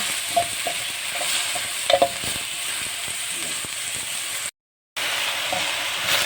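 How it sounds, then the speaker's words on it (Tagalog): Meat sautés in a hot pan for a Taiwanese home-cooked dish, a steady loud sizzle with scraping stirs and a couple of sharper clinks, cut by a brief half-second silence before the frying resumes. "Iligayin lang natin ng konti guys yung karne."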